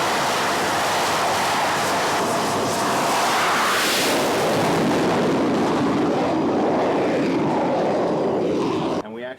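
Jet aircraft launching from the deck of an aircraft carrier, a loud sustained roar that swells and sweeps across the whole clip before cutting off abruptly at the end.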